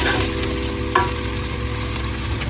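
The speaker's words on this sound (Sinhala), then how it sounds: "දැන් අරක ටෙම්පරාදු වෙලා තියෙන්නේ." Tempering ingredients for Korean spicy chicken soup (dakgaejang) sizzle and crackle steadily in a pan, with a brief stir or clink partway through and no voices.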